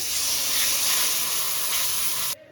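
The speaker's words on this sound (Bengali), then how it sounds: "এখানে কষানো হয়ে গেছে, এবার আমি জল দিয়ে দেবো অল্প করে" A little water hits hot, oil-fried spice paste for a desi tangra fish curry, giving a loud, steady hissing sizzle close up that cuts off abruptly near the end.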